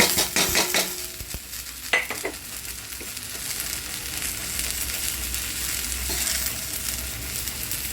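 Cluster beans (gavar) stir-fried in a pan over a low gas flame: a steady close sizzle with scraping spoon strokes and a few clinks against the pan in the first two seconds, then continuous frying hiss.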